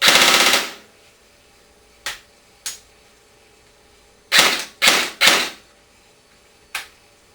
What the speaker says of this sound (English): Another click and it is now set for full auto.